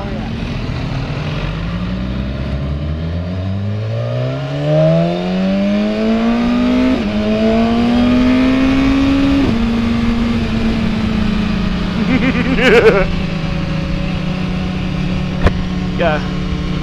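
BMW S1000RR sport motorcycle engine on a winding road, climbing in pitch as it revs up, then holding a steady drone with some engine-braking rumble and brief mechanical clicks near the end.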